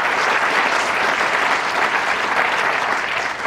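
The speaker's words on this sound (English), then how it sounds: "So please give him a round of applause." An audience at a county State of the County address claps steadily, a dense, even wash of applause throughout, loud and close, with no talk over it.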